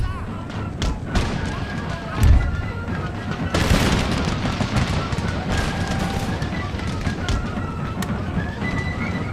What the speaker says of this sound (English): Picked up guns going.